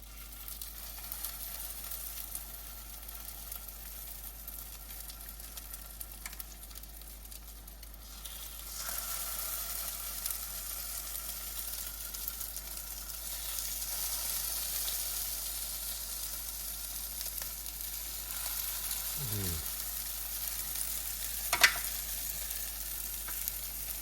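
Crab cakes fry in a tablespoon of olive oil with a soft, continuous, fairly quiet sizzle that grows a little after they go in, plus a brief clink and rustle near the end.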